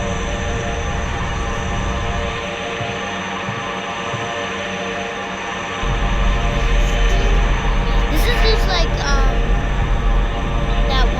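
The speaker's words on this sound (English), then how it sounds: "There's a new airplane. Let's try it out." An airplane engine in a video game drones steadily throughout, a continuous hum that grows louder and fuller partway through, with faint higher whines near the end.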